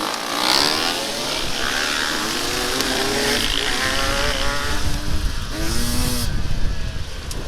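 Sherco 300SE Factory dirt bike starting and pulling away off the line at an enduro race start, a steady engine drone with rising revs among other nearby motorcycles, no talking.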